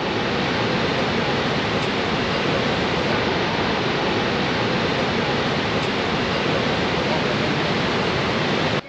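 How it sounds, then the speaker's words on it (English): Niagara Falls waterfall roaring as a dense, steady, unbroken rush of water, loud and constant throughout. "The Niagara Falls."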